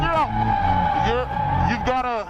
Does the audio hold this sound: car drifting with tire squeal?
yes